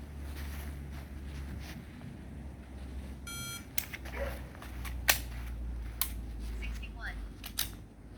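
MantisX start-signal beep during a dry fire drill, a short electronic tone in a quiet room followed by faint clicks and handling noises close by.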